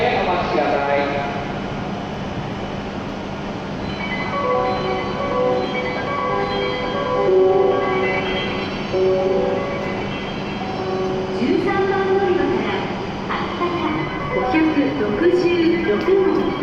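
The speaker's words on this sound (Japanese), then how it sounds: "13番乗り場に白鷹566号の東京行き発車いたします。" An E7 series Hokuriku Shinkansen Hakutaka service bound for Tokyo pulls out of platform 13 at Kanazawa station, a steady low rumble and hum building under ringing station chimes and public-address announcements.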